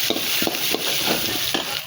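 Ginger and grated coconut sauté in a pan for a cauliflower gravy, a steady close sizzle under quick, rhythmic scraping strokes of a spoon stirring.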